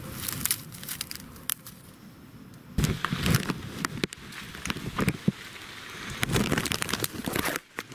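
Rain falling on a wild campsite while gear is packed up, an irregular patter with crinkling and rustling of tent or bags, fairly close, no talk.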